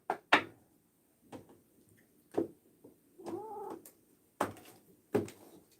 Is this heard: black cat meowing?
yes